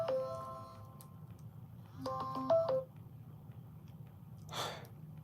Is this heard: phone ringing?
yes